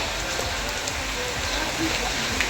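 Heavy rain at night in Nagaland, a dense, steady hiss of drops drumming on surfaces, continuous and fairly close with no breaks.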